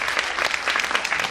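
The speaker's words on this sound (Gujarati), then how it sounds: "કલ્પેશભાઈને ખૂબ ખૂબ તાળીઓથી વધાવે જેથી બીજા પ્રોગ્રામો કરવાની તેને પ્રેરણા મળે" Audience at an NRI marriage awareness seminar applauds to welcome Kalpeshbhai, a brisk, dense burst of many hands clapping steadily throughout.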